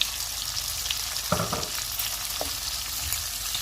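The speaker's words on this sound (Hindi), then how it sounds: "और इन्हें भी 2-3 मिनट तक फ्राई करेंगे।" Onions and capsicum frying in a pan for chilli fish, a continuous hissing sizzle with a brief burst of stirring clatter midway.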